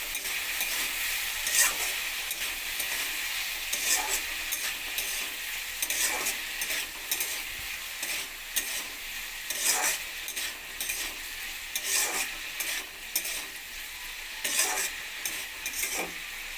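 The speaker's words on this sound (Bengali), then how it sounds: "দিয়ে দেবো অল্প একটু লঙ্কার গুঁড়ো আলুর সঙ্গে একসঙ্গে ভেজে নেবো" Potatoes frying with turmeric and chili powder while being stirred in a pan, a steady close sizzle with repeated scraping stirs, no talk.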